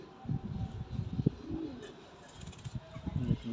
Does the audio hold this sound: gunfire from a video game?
no